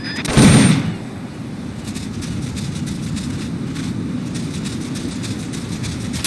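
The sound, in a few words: M16 assault rifle rapid fire in video game Metal Gear Solid Peace Walker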